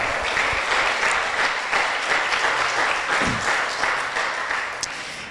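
A church congregation applauds in sustained, dense clapping that fills the room, holding steady for several seconds before tapering slightly at the end.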